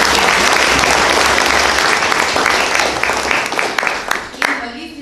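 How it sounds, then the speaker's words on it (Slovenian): Loud applause from an audience at a book presentation about the 1917 Brežice earthquake, dense and steady before thinning and tapering near the end, with a voice briefly audible as the clapping fades. "vam pa lahko zaploskamo"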